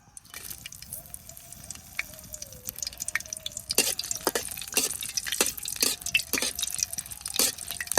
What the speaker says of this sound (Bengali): তেলে প্রথমে আগে এই শুকনা মরিচটা ভেজা নই